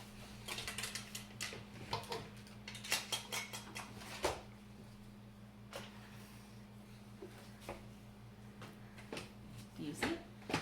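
A drawer is pulled open and rummaged through while searching for a lighter, giving brief clattering and rattling bursts of small objects over a steady low hum, with people talking nearby.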